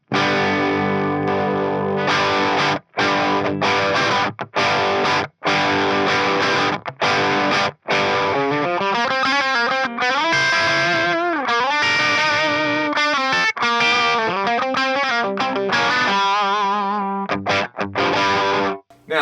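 An electric guitar played through a Klon-copy overdrive pedal into a Marshall Origin 50 amp rings out loud and crunchy, chords and single-note lines sustaining with brief gaps between phrases.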